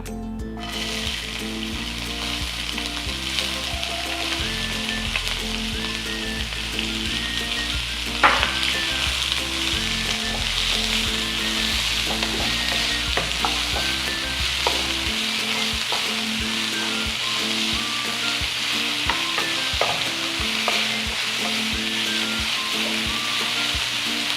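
Sliced onions fry in hot coconut oil for a Kerala-style prawn roll, a steady close sizzle with occasional scraping and stirring clatter.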